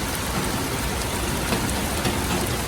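Steady, dense hiss of heavy rain pouring down, constant and loud throughout with no voices.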